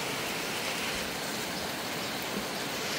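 Rain falling steadily, a dense and even hiss that stays constant throughout at a moderate level, with no speech.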